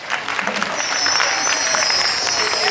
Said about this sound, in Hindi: बहुत ताली बजाओ भैया हो।